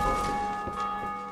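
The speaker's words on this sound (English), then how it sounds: "So I ring the bell." A bell rung in the Dark Souls II video game, a loud sustained metallic toll with rich ringing overtones filling the short moment, close and steady without speech.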